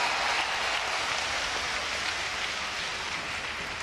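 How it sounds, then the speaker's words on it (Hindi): A large crowd applauding at a hospital inauguration ceremony, steady broad clapping that holds evenly throughout without pause. "और आपके हाथ की तालियां, जरा हाथ उठाकर"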